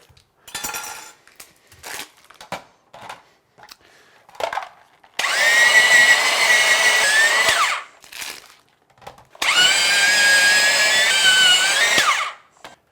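An electric grater attachment shreds a block of cheese in two loud, steady whirring bursts of several seconds each, with clinks and handling clatter from the appliance and dishes in between.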